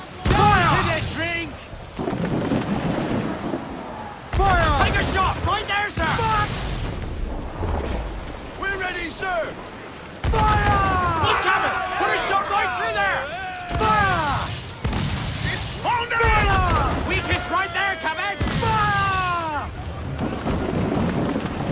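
Ship cannons firing in Assassin's Creed 4 Black Flag, several heavy booms scattered through the clip under loud sea wind and battle noise, with crew voices shouting throughout.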